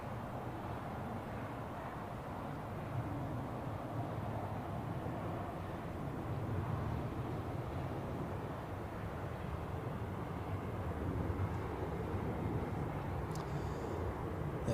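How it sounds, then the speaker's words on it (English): Faint, distant, steady roar of an Etihad Boeing 787 departing Zurich Airport, a low continuous rumble heard from afar with no voices. "We have Etihad departing, 787 to Abu Dhabi."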